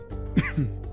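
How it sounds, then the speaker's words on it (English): A single short, close cough or throat clear, heard alone over a faint steady hum from a video game playthrough. "Oh my god, random cough, please."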